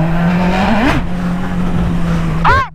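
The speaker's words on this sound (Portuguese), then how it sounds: "Ainda tô andando com a moto bem na hora da saída dessa escola" A 2019 Honda Hornet motorcycle is ridden past a school at dismissal time, its engine droning steadily with a shifting pitch and a brief rev, loud and close, over faint voices in the background.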